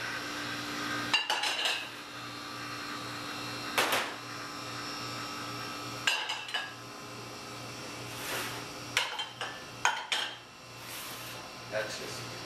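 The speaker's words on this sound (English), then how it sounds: "it's just a matter of putting them all together and stirring them up" Spoon clinking and scraping in a bowl as Cajun seasoning is stirred together, several short bright knocks scattered over a steady low electrical hum, close and fairly quiet.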